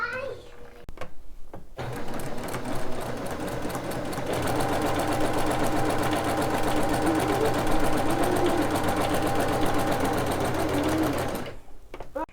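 A sewing machine stitches a quarter-inch quilt seam for a quilting block, running steadily at close range for about ten seconds with a fast, even mechanical whir, starting and stopping with brief pauses at either end.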